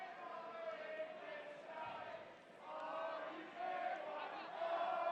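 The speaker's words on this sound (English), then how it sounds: "You can hear the crowd too, watching the same replay you are." A stadium crowd at a Tampa Bay Rowdies versus Miami FC soccer match murmurs and swells in the background, rising in waves beneath a commentator's talk.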